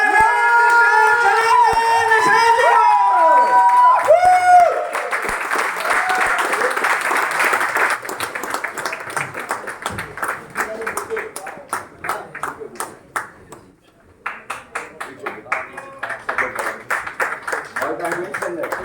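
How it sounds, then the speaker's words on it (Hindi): A standing audience claps loudly at a Hindi leadership seminar as a guest is welcomed. Music and voices open the clip, then sustained dense applause fills the rest. "एक बार आप लोग खड़े होके जोरदार तालियों के बीच में हम लोग आमंत्रित करते हैं"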